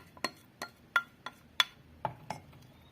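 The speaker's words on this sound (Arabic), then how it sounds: "غادي نحرك مزيان." A utensil clinks against a pot while three eggs are stirred in a home kitchen, about eight sharp separate taps in an irregular rhythm, close and moderately loud.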